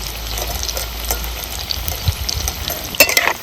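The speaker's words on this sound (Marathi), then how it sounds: "तर दुसऱ्या साईडने मी पलटी करते" Cabbage bhaji fritters fry in hot oil as they are turned over, giving a steady close crackling sizzle with small pops and a few sharper clatters near the end.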